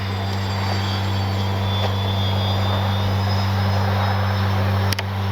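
A FlightLine OV-10 Bronco RC warplane's electric propeller motor drones loudly and steadily in flight outdoors, a constant whine with one brief dip near the end.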